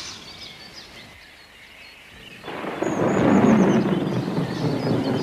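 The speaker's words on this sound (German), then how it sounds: "es donnert" Thunder in an outdoor summer setting beside a house under construction, starting quiet then swelling into a loud, sustained rumbling roll after a couple of seconds, with faint bird chirps above.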